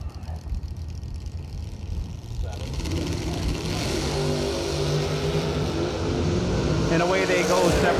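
Drag racing cars, including a 1963 Corvette, launch off the line with engines swelling into loud revving that builds and holds, while an announcer talks over the roar.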